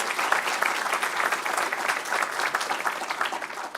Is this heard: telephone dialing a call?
no